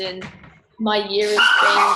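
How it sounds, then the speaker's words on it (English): A pet dog barks and yips indoors at home, several sharp calls in quick succession, mixed in with a person speaking nearby. "oh, sorry, that's my dog"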